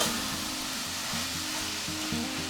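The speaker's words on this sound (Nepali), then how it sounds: "अब एकैछिन यो मसला भुटियोस्" A Nepali masala spice mix sizzles and fries in a hot pan for Kwati with momo, a steady close crackle heard alone, with faint stirring.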